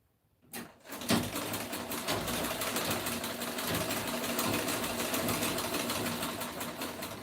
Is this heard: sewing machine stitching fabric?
yes